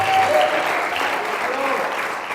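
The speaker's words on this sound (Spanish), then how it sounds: "Alguien dele palmas al Señor, aleluya" A church congregation claps steadily together, a dense, even wash of applause that holds at a loud level throughout with no voices on top.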